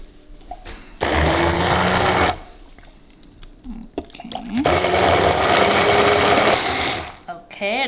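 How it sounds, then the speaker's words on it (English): A blender whirs loudly in two long bursts, chopping Thai chili, garlic and ginger, with a quiet pause between the runs and no talking. "And I'm going to blend everything together."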